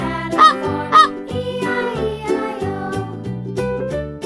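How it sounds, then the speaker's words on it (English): A goose honks several times in short, loud bursts over a bouncy children's farm song with steady musical accompaniment. "Goose."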